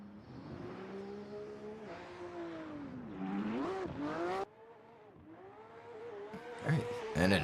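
A BMW E92 drift car at a qualifying run at Luddenham revs hard while initiating a slide, its engine rising and falling through several surges, with tire squeal near the end, heard from a distance.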